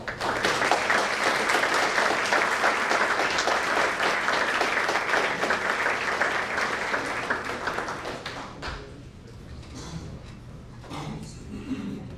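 An audience at a talk on the Shrine of the Book and the Dead Sea Scrolls applauds a doctor being introduced, a dense, sustained wash of clapping for about eight seconds that thins to a few scattered claps, then a voice begins.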